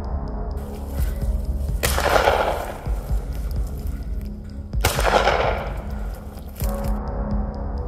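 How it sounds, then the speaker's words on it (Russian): Two loud, sharp warning gunshots fired to scare off a cougar, a few seconds apart, each with a long echoing decay, over a steady outdoor background. "человеку пришлось сделать пару предупредительных выстрелов"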